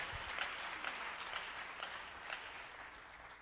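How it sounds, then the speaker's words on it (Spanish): A church congregation claps along in a steady, rhythmic beat, the hands striking together roughly twice a second, heard faint and somewhat distant throughout with no voices over it. "Dele palmas al Señor de la gloria."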